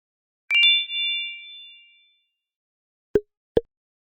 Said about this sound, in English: turn on that notification bell